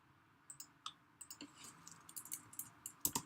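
Computer keyboard typing: a run of quick, light key clicks in an irregular rhythm with a couple of sharper presses near the end, close and fairly quiet, with no voices.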